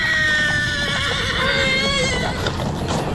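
Horses neigh and whinny in a radio drama set in a fantasy world. Several loud, shrill calls rise and fall over a dense, noisy backdrop, with hoof clip-clops mixed in.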